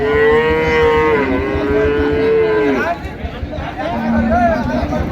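At the Ambari cattle market in Dinajpur, where dairy cows and calves are sold, a cow lets out one long, loud, close moo lasting several seconds, followed by market babble and nearby voices talking.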